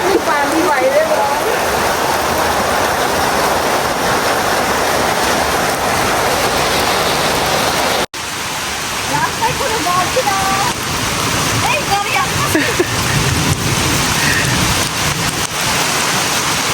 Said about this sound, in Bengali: এই জোরে বৃষ্টি গো।